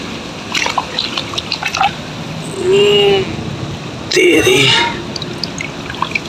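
Rainwater drips and trickles from a flooded temple roof after a cyclone storm, with wet gurgling splashes and pours close by, while a voice talks over the top.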